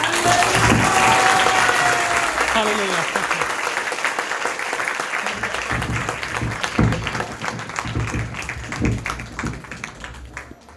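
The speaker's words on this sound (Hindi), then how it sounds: "खुशियों में तालियां बजा डालो" A church congregation claps loudly and steadily for several seconds at a Christmas sermon, with a voice calling out over it early on before the applause thins into scattered claps.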